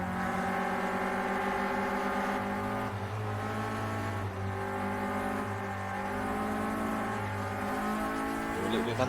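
Renault Clio Cup race cars roar around Silverstone National in the Project Cars racing game, a loud sustained engine drone with shifting revs and gear changes, while a commentator talks over it.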